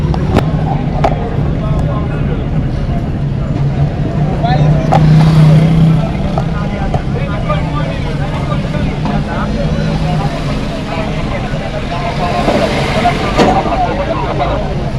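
A car drives along with a steady low engine rumble and road noise throughout, while a person talks over it.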